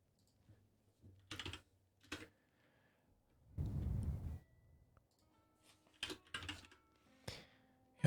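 Computer keyboard keys click in short, irregular bursts of typing, quiet and close, with pauses between the bursts.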